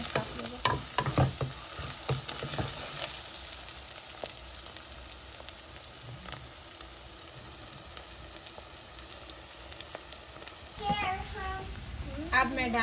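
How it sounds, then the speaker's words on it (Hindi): Garlic and ginger fry in a pan with browned onions for a Pakistani bhuna gosht, a steady sizzle broken by scraping stirs. A voice is briefly heard near the start and end. "अब हम थोड़ा सा लहसुन अदरक डालेंगे और इसको पकाएंगे।"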